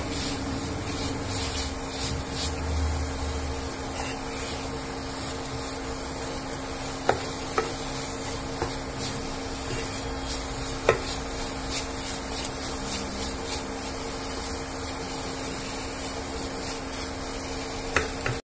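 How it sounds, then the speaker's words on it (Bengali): Modak filling, grated coconut cooking in a pan on an induction cooktop, stirred steadily with continuous close scraping and rubbing over a low sizzle, with a few sharp clicks of the spoon against the pan. "আমি আরেকটুখানি পাক দেবো।"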